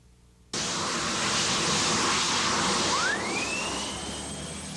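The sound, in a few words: turbine-powered hydroplane racing boat engine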